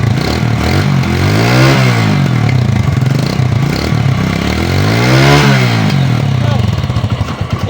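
A used motorcycle engine runs steadily up close, its pitch rising and falling in two long rev swells with a mechanical clatter throughout.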